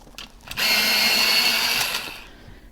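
An electric pencil sharpener whirs for about two seconds while grinding a walnut brown colored pencil, starting and stopping abruptly with nothing else heard.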